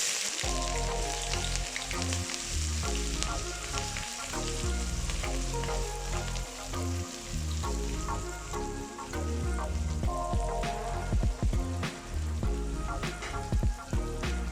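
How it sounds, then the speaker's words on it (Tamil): Whole spices sizzle and crackle in hot oil for vegetable biryani tempering, a busy, close frying hiss with scattered pops that keeps going throughout. "அதை இப்போ நான் தாளிக்கிறதுக்கு போட்டுறேன்."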